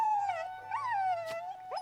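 A dog in the video game Princess Connect! Re:Dive gives a thin, wavering whimper that rises and falls in pitch, clear and close with nothing else over it.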